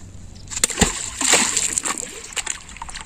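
A stone plops into a rock pool in a forest with a sharp splash, followed by brief sloshing and scattered splatter, close by.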